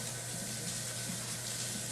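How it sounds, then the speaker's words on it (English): A potato is scrubbed under a steadily running tap, the water flowing in a continuous, close, even hiss with no talking over it. "But I give it a good scrub all along the outside and then hit the ends."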